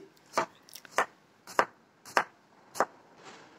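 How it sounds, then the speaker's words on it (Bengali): Knife chopping snake gourd on a board: five or six distinct, crisp chops at a steady, unhurried pace, close and clear with quiet between strikes. "আমি সমস্ত চিচিঙ্গাগুলোকে এখন কেটে নিচ্ছি"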